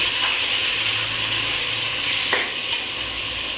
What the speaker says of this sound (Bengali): এবার আমি তেলের মধ্যে মাংসটা দিয়ে দিচ্ছি, মেখে রাখা মাংস।